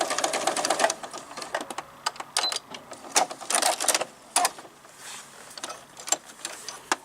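A sewing machine stitching a vinyl zip bag, running in quick bursts of rapid mechanical clatter with brief pauses between passes, fairly close and without talk.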